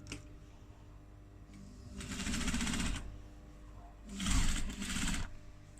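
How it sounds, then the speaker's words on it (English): Two short, quiet bursts of a sewing machine stitching around a clutch wallet, each lasting about a second, over a faint low background hum. "we're going to stitch all the way around the wallet"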